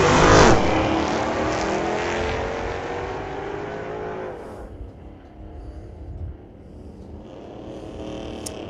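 A street-legal drag car launches and accelerates down the strip at a night drag meet at Mission Raceway Park, its loud engine roar rising in pitch with gear changes, then fading into the distance over several seconds.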